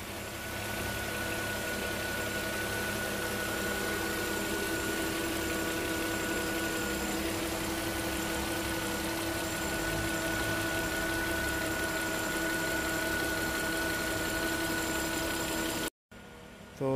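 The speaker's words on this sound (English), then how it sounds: "It is running now, it is very very quiet engine." A Volvo XC90 with a 3.2-litre petrol engine and automatic gearbox idles quietly and steadily, a smooth, even hum held at close range, with no speech.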